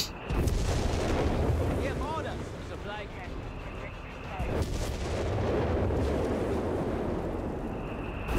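Combat in Company of Heroes 3 rumbles with booming artillery and gunfire, sharp bursts and heavy impacts layered over a continuous battlefield din, with a voice talking over the action.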